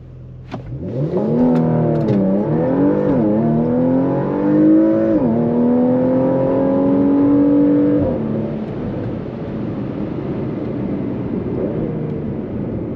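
A 2022 Porsche Macan GTS launching hard under launch control in Sport Plus, its engine roaring loud and close as it rises steadily through several gears in long climbing sweeps, then easing into a steadier drone with no talk.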